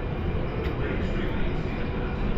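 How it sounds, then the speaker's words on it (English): A Phoenix Rising roller coaster train climbs the lift hill during test runs, a dense continuous rumbling clatter that holds close and loud for the whole stretch. "we got another train going up the lift hill"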